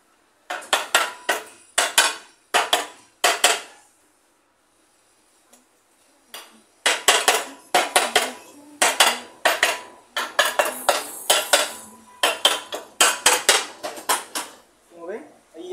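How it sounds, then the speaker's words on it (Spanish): A rubber mallet taps a scooter engine part into place during engine assembly, striking in quick bursts of sharp metallic knocks with pauses between groups, heard up close. "por eso lo estoy golpeando así con martillo"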